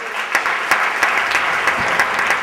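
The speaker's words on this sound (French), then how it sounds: "Je vous demande d'applaudir." Audience applause at a museum inauguration, a dense, steady clapping from a crowd with a few sharper claps standing out, continuous and fairly close.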